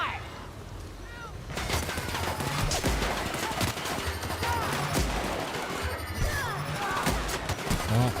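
Rapid bursts of weapon fire in The Outer Worlds video game, a dense fusillade of shots and crashes with some talk mixed in, loud and continuous throughout.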